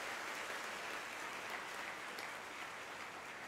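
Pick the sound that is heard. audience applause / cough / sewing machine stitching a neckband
audience applause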